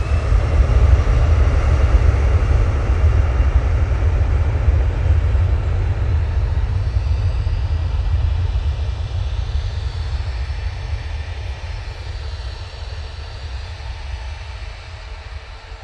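An EasyJet Airbus A319 jet departs for Belfast with a loud, deep low-frequency engine roar that slowly recedes and softens over the span.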